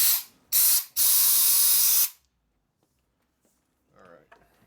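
Carburetor cleaner sprayed onto motorcycle carburetor parts, a 1970 Harley-Davidson XLCH ironhead Sportster build, comes in three close, loud hissing bursts, a short one, another short one, then a long one of about a second. Quiet follows, with faint voices near the end.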